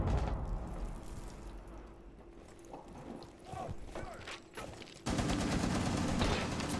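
Gunfire in a Rainbow Six match crackles in scattered bursts, then gives way to a sustained loud rapid volley near the end.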